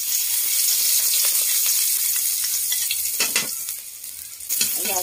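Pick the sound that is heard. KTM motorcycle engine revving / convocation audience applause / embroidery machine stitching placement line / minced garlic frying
minced garlic frying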